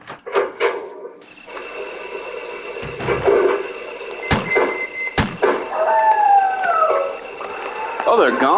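Dogs howl in the Resident Evil Director's Cut video game, with drawn-out wailing tones rising near the end among sharp game effects, gunshot-like bangs and a speaking voice.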